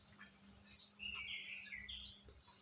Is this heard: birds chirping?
yes